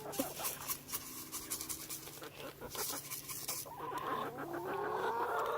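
Backyard chickens clucking and calling as they peck at crushed eggshells fed as a treat, a busy flock murmuring close by with scattered brief clucks and a rising chorus toward the end.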